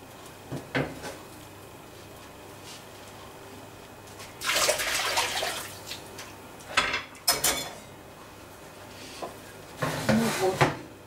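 Hot water being taken out of a home oven partway through baking bread, with splashing and pouring bursts mixed with metallic clatter of pans and door handling, close up and fairly quiet.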